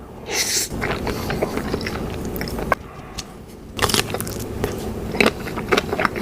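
Someone eats Korean instant noodles mixed with mayonnaise, with close biting and crunchy chewing in uneven bursts and brief pauses between mouthfuls.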